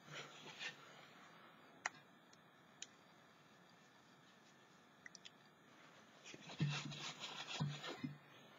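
A cloth rubs paint off a painted DIY garden gnome, giving quiet, steady scraping friction with a few small taps and a louder burst of rubbing near the end.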